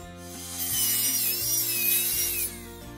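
A 7-degree bevel cut through a wooden fence picket gives a steady, rasping sawing noise for about two and a half seconds, then stops, with music playing underneath.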